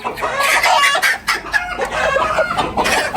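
A chicken clucks loudly and close by, a busy run of squawky clucks with no pauses.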